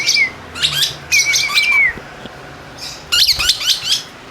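African lovebirds squawking in a home cage, bursts of shrill, rapid chirps and squawks close to the microphone, with a quiet pause in the middle before another burst.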